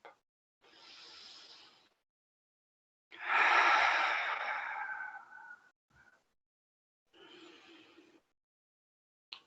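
Slow, deep yoga breathing, a few long audible breaths with a big airy exhale, separated by silent pauses, close and quiet with no talking.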